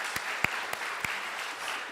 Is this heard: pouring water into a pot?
no